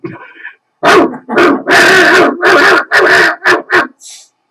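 A dog barks close and loud in a rapid series of about eight sharp barks, with a soft whine at the start and a faint high yip at the end.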